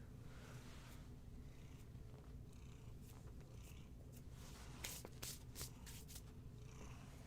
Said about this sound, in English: Who's my happy purring boy who's getting fuzz all over me?